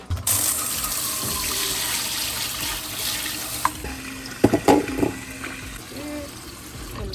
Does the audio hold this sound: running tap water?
yes